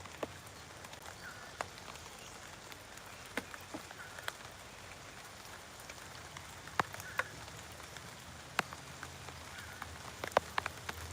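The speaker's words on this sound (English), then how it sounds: "Here comes the rain again, pouring down on me, getting old GP wet." Steady rain falls outdoors, a continuous soft hiss broken by scattered sharp drip and patter clicks close to the microphone, with no talking.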